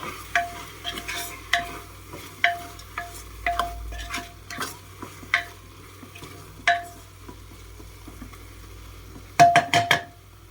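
Mushroom biryani masala being mixed in a pan with salt added, heard as a series of sharp spoon scrapes and clinks against the metal at an irregular rhythm, fairly close, ending in a quick cluster of louder knocks.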